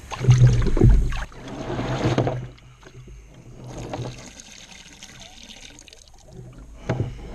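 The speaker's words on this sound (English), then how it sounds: "let's try to dump some of this water out" Water splashes and pours as it is dumped out of an electric barrel boat, in a few sloshing bursts separated by quieter, trickling pauses.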